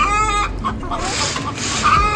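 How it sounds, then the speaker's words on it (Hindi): Desi hens clucking and calling close by in a farmyard, several birds overlapping in a busy, steady chorus that runs the whole time. "ये हैं कुछ अपनी देसी मुर्गियाँ"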